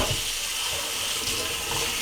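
Tap water runs steadily into a sink while NuWave oven parts are washed by hand, a close, continuous hiss and splash with no pauses.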